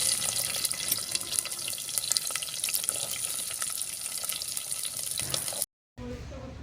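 Green chillies and onion being washed under a running kitchen tap, a steady close splash and rush of water that cuts off abruptly near the end, followed by faint room sound.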